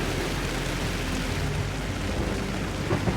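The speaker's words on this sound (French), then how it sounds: "Même sous cette pluie battante" Heavy pouring rain with low thunder rumbles during an outdoor endurance challenge on a reality survival show, a dense, constant hiss of downpour filling the whole stretch, with no voices.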